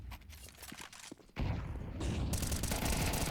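Counter-Strike gunfire erupts on the Inferno map during an ESL Challenger League match. It starts with scattered shots, then turns into a loud, sustained fusillade from about the midpoint onward.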